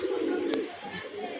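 A pigeon coos close by, one soft low murmur in a brief, otherwise noisy moment with a faint chirp over it.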